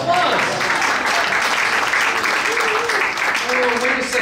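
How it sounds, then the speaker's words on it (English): A crowd claps steadily throughout, while voices call out over the applause. "Let's give him a big round of applause"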